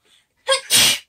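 A single sneeze indoors during a sketching session, close and loud, with a faint intake of breath, then a sharp burst and a longer noisy release, all over about half a second.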